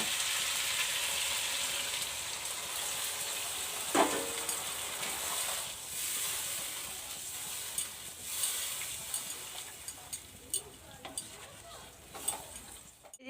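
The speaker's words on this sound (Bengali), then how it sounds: "দেখুন বন্ধুরা, আমাদের মাংস কষানো হয়ে গেছে, এবার আমি জল দিয়ে দেবো।" Sizzling from a hot pan of braised Bengali-style chicken kosha as water is poured in, a steady hiss with a sharper burst near the start and light stirring scrapes and clinks of utensils through the rest.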